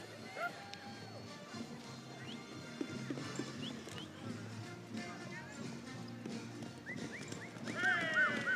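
Trotting mares in harness at a racing arena during the mares' final of the Friso Florian Bokaal, with steady hoofbeats and an occasional whinny in a noisy, echoing crowd atmosphere.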